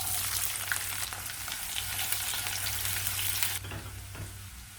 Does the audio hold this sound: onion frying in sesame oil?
yes